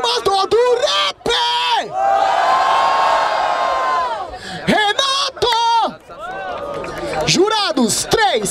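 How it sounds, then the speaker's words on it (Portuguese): Loud crowd cheering and whooping at a freestyle rap battle event in Barueri, São Paulo, bursting in waves between shouted calls from the host, with a sustained roar in the middle of the clip. "Barulho para as rimas do rap!"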